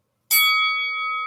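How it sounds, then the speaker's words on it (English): A single bell strike rings out alone, marking the start of round two in a contractor-estimates show, with a bright metallic clang that leaves a long, steady ringing tone fading slowly. "Let me get the right bell in there."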